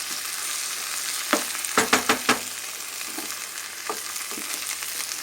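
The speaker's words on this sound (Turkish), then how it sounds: "fasulyemi de kavuruyorum" Frozen green beans sauté in a pan with a loud, continuous sizzle, broken by a few quick scraping stirs of the utensil close by in the middle.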